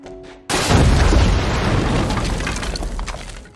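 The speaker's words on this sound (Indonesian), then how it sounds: "sebelum akhirnya sebuah granat mengempaskannya keluar" A sudden loud grenade blast hits after a brief quiet moment, followed by a long, roaring rumble with scattered debris-like crackle that slowly fades.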